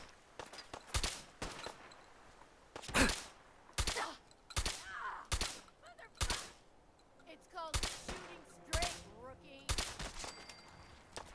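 Bursts of automatic gunfire from a gun in the video game Fallout 4, about a dozen sharp, loud volleys spread across the clip in an uneven rhythm, with faint game sounds between them.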